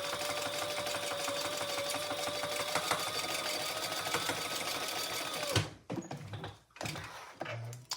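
A Sailrite sewing machine stitching through a shoulder bag, a steady fast mechanical whir and clatter that runs for several seconds, then stops abruptly, leaving a few handling knocks and thumps.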